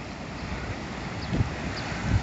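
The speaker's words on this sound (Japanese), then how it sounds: "ああいう風に白い波がいっぱい来るんですけど、あそこでせき止められていて、このね、波打ち際優しいんですよね、波がね。" White waves breaking gently along the shoreline at Waikiki beach, Hawaii, heard as a steady broadband wash of surf and wind noise with a couple of soft low thumps of water near the end, and no talk.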